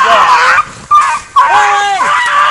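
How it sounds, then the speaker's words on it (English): A hunting dog yelps and whimpers in distress during a boar hunt in the Sabine River bottoms, loud, close, high-pitched cries in broken bursts, with people shouting over them. "He's killing my dog."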